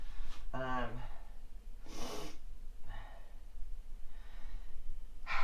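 Several short nasal sniffs and breathy snorts from a person with a cold come in separate bursts, close and fairly quiet, with a low background hum.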